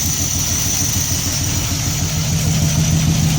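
A 1968 AMC Javelin's high-compression 343 V8 with a four-barrel double-pumper Holley carburetor idles steadily up close, a loud, even low rumble that holds throughout with no talking over it.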